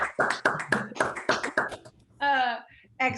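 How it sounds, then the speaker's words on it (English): Several people on a video call clap vigorously together, a quick run of sharp overlapping claps lasting a couple of seconds, with a voice breaking in briefly near the end. "Clap vigorously."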